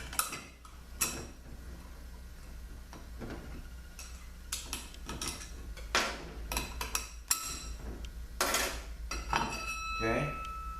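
Metal parts from a 62TE automatic transmission, including a snap ring, being handled on a bench, with repeated clinks, taps and clattering knocks at close range over a steady low hum.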